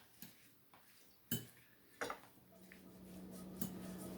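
A spoon clinks and scrapes against a bowl while taco filling is mixed with lime, salt and pepper, giving a few sharp taps between softer stirring sounds at close range.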